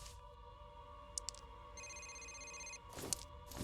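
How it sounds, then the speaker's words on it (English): A telephone rings indoors in a short electronic burst of repeating tones, moderately loud over a steady background hum, with a few faint clicks before it. "You want me to answer the phone?"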